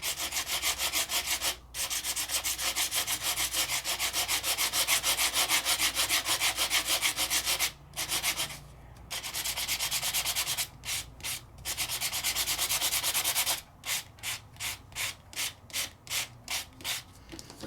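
Abrasive sanding of a stamped craft image of a tree, a steady close scratchy rubbing that runs almost continuously, briefly paused twice, then breaks into short rhythmic back-and-forth strokes near the end.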